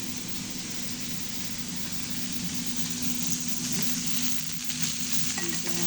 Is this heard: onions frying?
yes